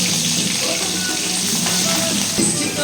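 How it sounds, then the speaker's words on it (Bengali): Shrimp frying in hot oil in a wok give a continuous, close, bright sizzle, with a voice speaking over it. "এবার আমি চিংড়ি মাছগুলো হালকা করে ভেজে নেব।"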